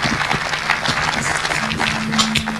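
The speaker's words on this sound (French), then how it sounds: "On applaudit jusqu'à ce qu'il monte sur ce podium." An audience applauds a prize laureate at an international award ceremony, a steady wash of clapping with a faint sustained tone running underneath.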